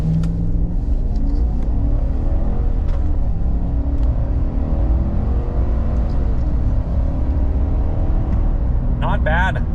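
A Chevrolet Silverado pickup with a 5.3 V8 accelerates hard from idle toward 60, its loud and steady engine roar dominating the recording from within the cabin, along with a brief electronic chime near the end.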